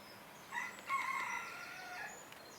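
A rooster crows once, a distant, fairly faint cock-a-doodle-doo drawn out over about a second, heard outdoors on a rural heritage trail near Teigh in Rutland amid quiet open-air background.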